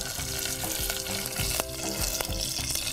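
Curry leaves, fenugreek seeds and coriander seeds sizzle and crackle in hot oil as a tempering for sambar, a loud, continuous fry with scattered pops and some stirring, and no talking.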